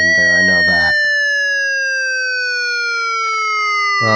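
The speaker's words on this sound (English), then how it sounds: "this is a test of the outdoor warning siren system" Outdoor tornado warning siren sounding a sustained, slowly falling wail with strong harmonics, with a voice talking over its start and again at the end.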